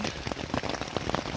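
Dense, steady patter of heavy rain drumming close overhead on a tent, continuous and loud with no voices, during an all-night downpour on the Appalachian Trail in Virginia.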